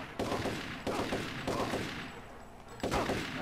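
Bursts of rapid gunfire in the shooter Turok: Shadow of Oblivion come close and loud, with three or four sharp volleys and brief decaying gaps between them.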